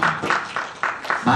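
Children in a church Sunday-school class clap together in quick rhythmic bursts, about four sharp claps per second, close and fairly loud.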